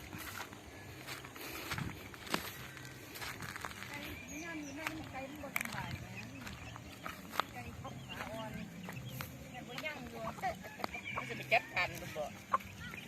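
Chickens cluck and call faintly in a rural yard, scattered short calls heard under people talking nearby.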